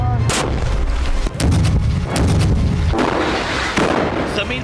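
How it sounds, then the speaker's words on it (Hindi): IED blasts go off one after another in Jenin in the West Bank during an Israeli military operation, with loud, heavy booms and rumbling that follow each other closely and fill the whole stretch. "एक के बाद एक धमाकों से वेस्ट बैंक का पूरा जेनिन शहर धुआं-धुआं हो गया।"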